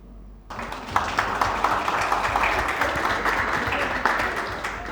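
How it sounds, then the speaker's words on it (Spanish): An audience at a trade union training lecture breaks into applause that starts abruptly and continues as a dense, even wash of many hands clapping, moderately loud and without talk. "me aplaudieron ahora y ya está"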